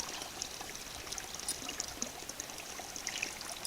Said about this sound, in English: We're standing in the water coming out of it. Spring water trough.